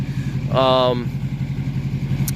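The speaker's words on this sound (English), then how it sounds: "You can hear all the intricacies of the engine, the turbo." A deep Duramax LBZ diesel pickup truck engine with a full DPF delete idles with a steady low throb throughout, turbo audible, while a voice briefly speaks over it partway through.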